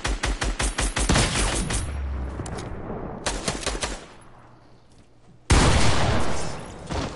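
Rapid bursts of automatic gunfire from a video game shooter open loud and close, followed by a sustained roar, a quieter stretch, a few more shots, a near-silent gap, then another loud burst.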